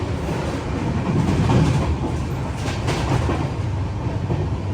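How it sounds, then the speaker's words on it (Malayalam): The Saraighat Express moving at around 110 km/h on the Guwahati to Howrah line gives a steady, loud rolling rumble with rhythmic clickety-clack from the wheels, heard from inside with no talking. "ട്രെയിനിപ്പോ 110 km/h സ്പീഡിലാണ് പോകുന്നത്."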